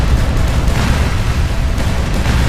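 A bomber in the video game Strike Tactics drops its bombs, producing a continuous heavy rumble of explosions that stays loud and steady, with no voices.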